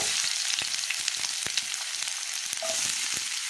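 Chopped onions frying in hot oil for an egg green masala, a steady close sizzle with crackling pops and occasional stirring clicks throughout.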